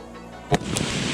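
A single sharp rifle shot fired downrange at a Miller Lite beer can outdoors, one loud crack followed by a brief echoing tail.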